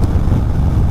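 Harley-Davidson Softail Street Bob FXBB with a Two Brothers exhaust pulls hard in fifth gear, its deep steady engine drone loud and close, mixed with wind buffeting and no voices.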